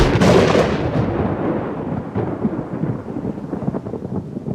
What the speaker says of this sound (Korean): 천둥과 벼락이 치고 있다